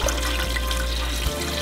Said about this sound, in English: Okay, now we're gonna add water. Adding hot water just will save you a little bit of time.